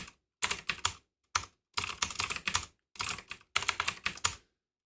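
Fingers type fast on a computer keyboard with cat fur caught in it, the keys clattering in several quick bursts split by short pauses, close and alone.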